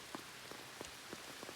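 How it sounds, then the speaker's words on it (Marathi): Rain falls softly in the Konkan countryside, a faint steady patter with a few scattered drops landing on a surface close by. "5 मिनिटांनी जाता जाता परत पाऊस आला"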